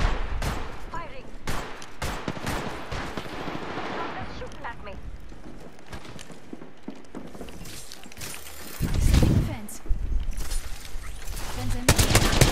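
Bursts of gunfire crackle in an Apex Legends-style shooter, sharp shots scattered throughout with a heavier, louder flurry near the end, mixed with game effects.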